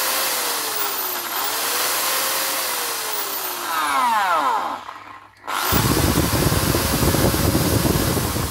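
Makita power drill running at variable speed, its motor whine rising and falling smoothly, dropping out briefly, then restarting loud and steady close by.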